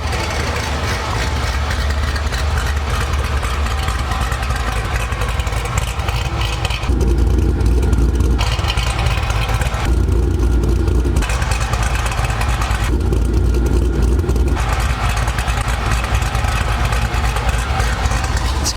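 A loud, deep Camaro exhaust rumbles steadily at idle outdoors, with a few slight blips and shifts in tone as the engine runs.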